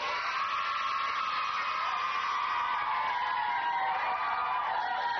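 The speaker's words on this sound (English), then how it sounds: "Round of applause for the green team." Studio audience at a children's TV game show cheers and claps for the green team, a continuous bright, band-limited roar of young voices and applause holding steady for several seconds.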